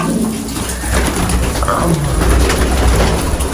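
Pigeons coo softly and repeatedly, close by, over a constant background hiss with no talking.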